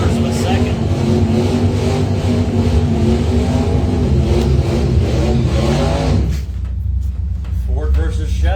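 Ford and Chevy drag race cars accelerate hard at a Bowtie Challenge drag strip event, a loud roaring engine surge that builds for several seconds, then cuts off sharply into a fading, quieter rumble.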